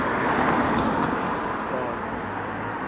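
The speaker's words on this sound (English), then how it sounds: "cars are going past" Cars including a Kia, a Ford and a Citroen drive past on a road beside a pedestrian walking to Asda, a steady close roar of tyres and engines that eases slightly as they pass.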